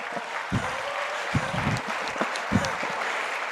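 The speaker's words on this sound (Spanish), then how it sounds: "un aplauso para el que no usa Netflix." Applause from an auditorium audience at a technology innovation center launch event, a dense sustained patter of many hands clapping with a few louder bursts, fairly loud and close, with no speech over it.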